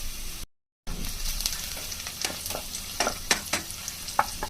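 Chopped onion with cinnamon, cardamom and bay leaves sizzles in hot oil, close and steady, with sharp crackles and stirring scrapes; a brief gap of silence interrupts near the start.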